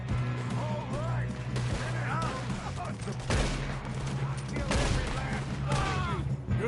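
Loud, dense gunfire in a Western-style video game shootout, repeated shots and bursts overlapping with shouting voices and a steady background tone.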